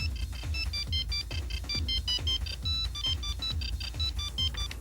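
A mobile phone ringtone plays a repeating, high electronic melody in quick bursts, steady and fairly loud throughout, with no talking.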